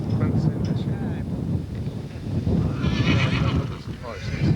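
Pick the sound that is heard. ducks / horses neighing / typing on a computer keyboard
horses neighing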